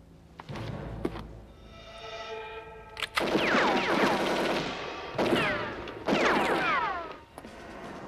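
Gunshots ring out in the martial arts action film TC 2000, with loud bursts of shots separated by brief gaps and a low rumble beneath, and no one speaking.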